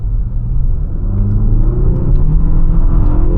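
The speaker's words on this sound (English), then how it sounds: "We'll floor it here." A 2025 Infiniti QX60 VC-Turbo engine roars and builds in a deep, continuous rumble as it accelerates at full throttle, loud and close, growing steadily stronger.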